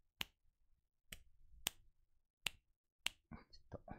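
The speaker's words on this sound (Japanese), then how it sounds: "指パッチン、" Five sharp, crisp finger snaps at uneven intervals, close and isolated against a quiet room, followed by faint soft rustling.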